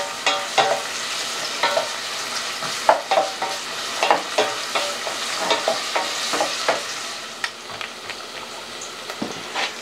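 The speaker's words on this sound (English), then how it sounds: "So the onions, garlic, stirring it until the onion's translucent." Onions and garlic sautéing in a pan, an even sizzle under a regular series of spatula scrapes and stirs, close and clear, with no talking.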